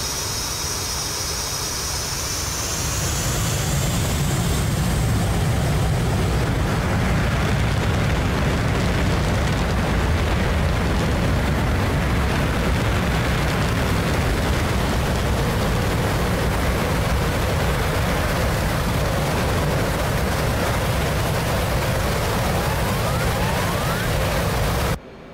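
An F/A-18 Hornet jet takes off in the DCS flight simulator: a rising turbine whine swells into a loud, sustained engine roar that holds steady to the end, with no talk.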